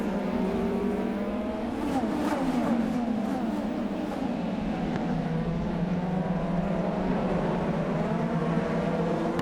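IndyCar race cars at the 2018 Firestone Grand Prix of St. Petersburg accelerating through the gears on a restart: a dense, continuous roar of several engines with overlapping rising and falling pitches, loud and steady throughout.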